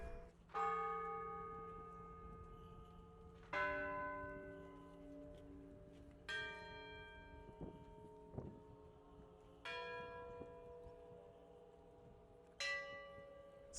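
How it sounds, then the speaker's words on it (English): Orthodox church bells in central Ukraine ring out in a slow sequence of five resonant strikes, each bright clang decaying into a long hum, heard from a moderate distance outdoors. "Here we've got obviously some Orthodox churches, they're just ringing the bells."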